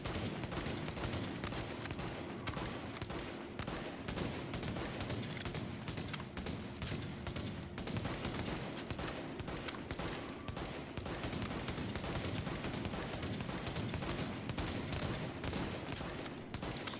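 Scar H rifle fire in The Division, dense rapid gunfire bursts that run almost without pause, loud and continuous throughout with no speech.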